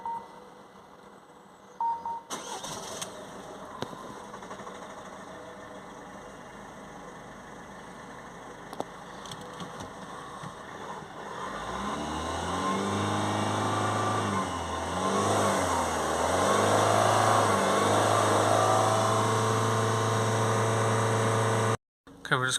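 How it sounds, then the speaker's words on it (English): A Peugeot 5008 1.5 HDi diesel car with a particle filter fault is started, giving a beep and a click before the engine catches and settles into a steady idle that grows louder and holds until a sudden cutoff. "Okay, we're going to start the car back up."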